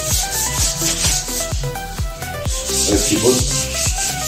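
Aluminium being sanded and polished toward a mirror chrome finish: a steady, close rubbing rasp with rhythmic back-and-forth strokes, under a brief spoken remark.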